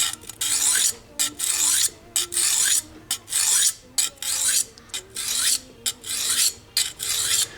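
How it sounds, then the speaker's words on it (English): A knife blade scrapes back and forth across a gritty, brand-new 400-grit diamond stone in steady rhythmic strokes, each a harsh rasp separated by brief pauses. "it feels and it sounds a little bit gritty, just like pretty much all brand new diamond stones do"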